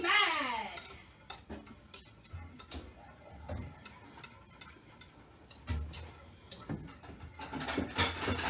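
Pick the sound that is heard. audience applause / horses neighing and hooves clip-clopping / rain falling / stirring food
stirring food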